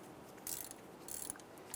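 A ratchet loosening an upper ball joint bolt on a 1999–2004 Jeep Grand Cherokee: two short bursts of quick, faint metallic clicking separated by a brief pause.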